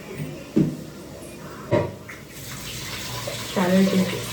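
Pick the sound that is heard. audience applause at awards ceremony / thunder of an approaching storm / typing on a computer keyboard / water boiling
water boiling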